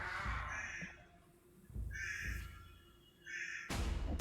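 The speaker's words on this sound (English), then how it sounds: "The crow is in Syrinscape." Crow cawing from a tabletop ambience sound library: several harsh caws in separate bursts, moderately loud and clear, with low rumbling thuds between them and a sharp bang at the end.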